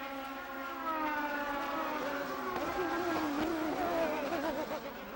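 A Toyota Atlantic race car engine roars steadily at close range, its pitch wavering and rising as it speeds past, loud and continuous throughout.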